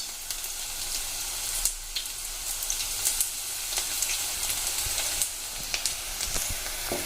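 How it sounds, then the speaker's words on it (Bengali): Onion fritters (piyaji) deep-frying in hot oil, a steady close sizzle with bubbling crackle and occasional sharper pops throughout, no voices. "এবার আমরা ভালো করে ডিপ ফ্রাই করে ভেজে নেব, গোল্ডেন ব্রাউন করে।"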